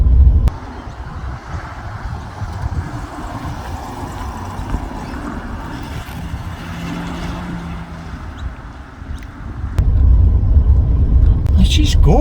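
Jaguar Series 3 V12 engine running smoothly with no rattles, a steady low rumble throughout that grows louder near the end, with a voice speaking over it.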